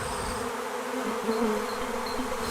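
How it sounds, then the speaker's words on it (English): Honeybees streaming out of a hive entrance, a steady, dense hum of many wings with a few brief louder passes of single bees close by, continuous and unbroken. "the bees started coming out of the hive very,"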